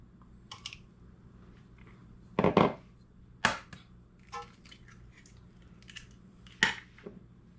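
Fresh eggs are cracked into a bowl in a farmhouse kitchen: a few sharp, close taps and cracks with small clicks and drips between them, quiet and isolated against a hushed room.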